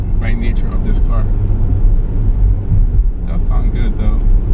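A turbocharged Ford Fiesta ST engine while driving, a low, rumbling drone heard from inside the car, with someone talking intermittently over it.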